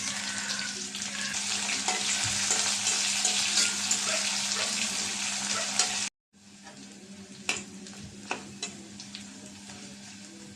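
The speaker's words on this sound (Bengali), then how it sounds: "এখন পেঁয়াজ কুচি দিয়ে দেবে সাথে আর দেবো কটা কাঁচা মরিচ" Chopped onions and green chillies hit hot oil already holding a bay leaf in a pan, giving a steady loud sizzle with stirring scrapes that briefly cuts out, then resumes at a slightly lower level.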